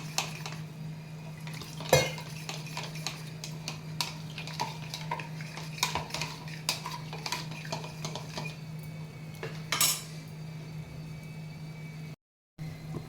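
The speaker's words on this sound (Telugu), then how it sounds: "వాటర్ వేసి కలుపుకున్నాను" A spoon stirs water into corn soup in a metal pot, giving faint, scattered clinks and scrapes over a low steady hum.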